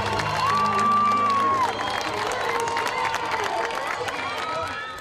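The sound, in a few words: crowd applauding and shouting for activists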